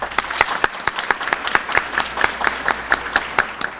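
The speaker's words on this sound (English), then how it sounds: "Give them a round of applause." Audience at a festival queen's banquet breaks into applause, a steady patter of many hands clapping with sharp individual claps standing out, moderately loud and continuous with no talk over it.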